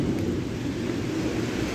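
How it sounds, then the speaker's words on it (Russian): Thunder rumbles low and continuous through a summer hurricane in Kazan, a dense steady roar mixed with wind and rain noise, with no voices. "сейчас гремит гром тут"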